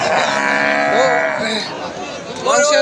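Local deshi cattle moo in drawn-out, low calls at a market, with a busy crowd murmuring and talking underneath throughout.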